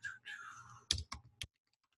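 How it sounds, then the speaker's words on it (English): Keywords are typed on a computer keyboard in a quick burst of a few crisp, close key clicks, followed by silence. "I'm just typing in exactly what it is that I want."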